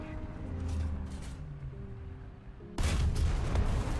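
A tank gun in a video game fires and destroys a Panzer III L, a sudden loud blast after a low engine rumble, followed by a sustained roar of rumbling noise.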